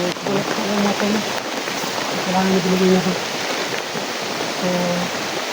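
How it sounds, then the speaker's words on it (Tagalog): Heavy rain pours down in a steady, loud, dense hiss, with someone talking over it at intervals. "Sobrang lakas ng ulan po talaga guys."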